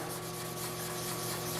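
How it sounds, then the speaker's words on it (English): Continuous scratchy rubbing of sandpaper on a black car's paintwork, a quiet steady rasp with no pauses and no voices. "Need a bit more sanding."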